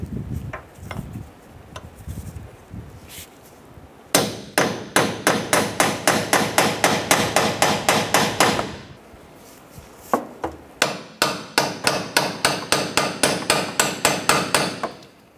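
A chisel is hammered against a worn front upper subframe crossmember bushing on a 2006-2013 Chevrolet Impala, a long rapid run of sharp metallic strikes, close and loud, pausing briefly before a second steady burst.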